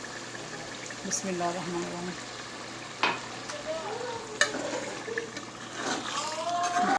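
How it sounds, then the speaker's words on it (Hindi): Half a cup of water added to chicken karahi sizzling in the pan, with hissing, stirring scrapes and light splashes under a spoken voice, rising to a louder sizzle toward the end. "अब इसमें आधा कप पानी ऐड करेंगे"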